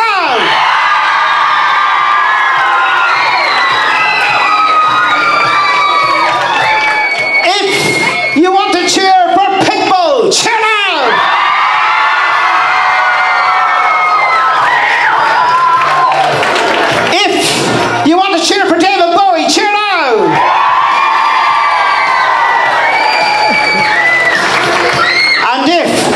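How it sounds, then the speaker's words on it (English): A school variety-show audience cheers for the Spice Girls act, a loud sustained wash of whoops, yells and children's shouts swelling in several bursts, with a presenter's voice breaking in between the waves. "If you want to cheer for the Spice Girls, cheer now!"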